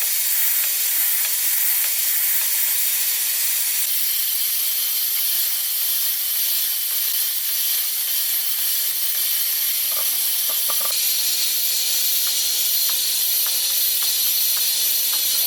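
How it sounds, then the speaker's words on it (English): Air hissing from leaking boost hoses on an engine intake, a steady loud broadband hiss that continues throughout with little change, no voices. "these were all leaking. When I wiggle them around, you could hear the noise change"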